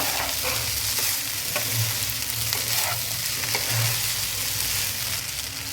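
Tomato rice sizzles and fries in a pan on a high flame while being stirred, a continuous crackling hiss with periodic scraping strokes of the spoon, close and steady.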